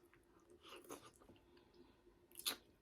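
Quiet, close chewing of shrimp from a seafood boil, with a few soft wet crunches and bites, including a sharper crunch near the end.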